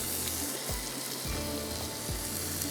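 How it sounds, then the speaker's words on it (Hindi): Vegetables sizzling in hot butter in a karahi, a steady close crackling fry with bursts of spattering as pieces settle in the pan. "जैसे ही बटर गर्म होगा हम इसके अंदर डालेंगे वेजिटेबल"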